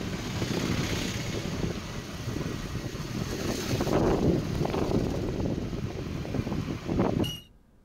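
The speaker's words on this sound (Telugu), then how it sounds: "తీర ప్రాంత జిల్లాల్లో భారీగా గాలులు వీస్తున్నాయి." Strong cyclone winds blowing on the coast produce a continuous loud roar and buffeting across the microphone. The noise rises and falls for several seconds and then cuts off abruptly.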